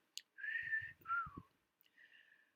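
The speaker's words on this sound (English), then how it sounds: "Cat gives a knowing whistle." Someone whistles a few short sliding notes, a rising-falling pair then a softer trailing note, quiet and close.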